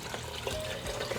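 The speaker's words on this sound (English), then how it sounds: "now we're gonna just fill this up with water" Water running from a tap into a pot for turkey stock, a steady close rush with faint rising gurgles as the pot fills.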